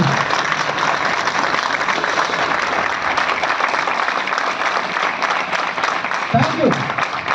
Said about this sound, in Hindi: तालियां होनी चाहिए, जोरदार वाली तालियां